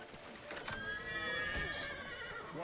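A horse in The Witcher 3 video game gives one loud, drawn-out neigh that wavers and falls in pitch, set over steady game ambience.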